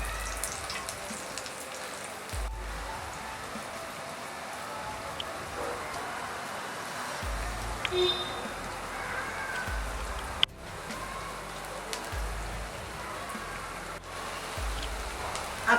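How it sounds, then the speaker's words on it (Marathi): Vegetable cutlet patties frying golden brown in oil in a pan, a steady, even sizzle that continues without break throughout, with a few faint low knocks underneath. "आता दुसऱ्या साइडून याला टर्न करून घेऊया आणि दोन्ही साइडनी गोल्डन ब्राउन असं फ्राय करून घेऊया।"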